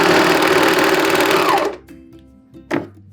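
A serger overlocker stitches a stretchy lettuce hem in a fast, steady whirring rattle that runs up close and loud, then stops. A short mechanical clunk and a brief burst of motor follow afterwards.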